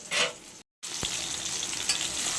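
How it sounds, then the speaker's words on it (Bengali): Eggplant slices frying in hot oil for a Bengali meal, a steady broadband sizzle close by, broken by a brief silent gap and a sharp tick, with no voices. "বেগুনটা ভাজা হয়ে গেছে"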